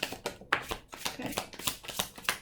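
Tarot cards being shuffled by hand, a quick run of close riffling snaps and soft slaps in an uneven rhythm, fairly quiet.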